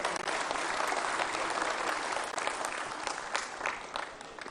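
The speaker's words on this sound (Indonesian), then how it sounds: "tepuk tangan untuk puan kita." Applause from an audience at a 25th anniversary party rally for the National Mandate Party, greeting women party cadres; dense, steady clapping fills the hall throughout.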